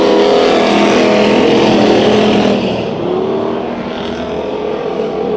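Race cars in a heat race at Bakersfield Speedway drone loudly at full throttle, a dense, layered engine roar that drops somewhat partway through as the pack moves away.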